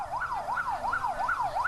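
An emergency ambulance siren from a hospital supporting volunteer rescuers in Bangkok wails in a fast, regular up-and-down cycle, loud and continuous, with no talking.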